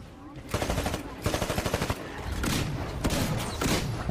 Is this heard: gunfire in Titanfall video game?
yes